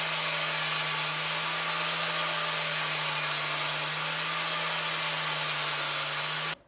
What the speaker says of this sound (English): We're gonna notch it ourselves with a grinding wheel.